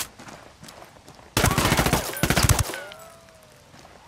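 Sniper gunfire in the Ghost Recon Wildlands video game: after a quiet stretch, a sudden loud burst of rapid, closely packed shots lasts just over a second, then fades into a lingering tail.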